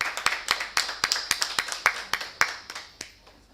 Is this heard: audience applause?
yes